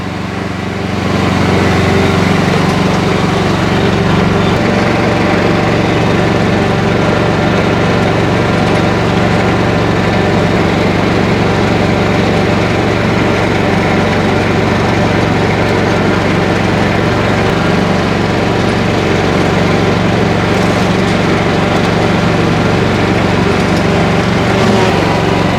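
Razorback ride-on mower engine running steadily while mowing a steep slope, with the cutter set at 70 mm: a loud, continuous drone close by with no breaks.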